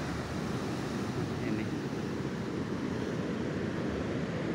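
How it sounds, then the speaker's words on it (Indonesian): Big ocean waves at Ngiriboyo beach in Pacitan, a continuous broad rumbling wash of surf mixed with wind noise on the microphone, steady and fairly close. "Ombaknya gede banget"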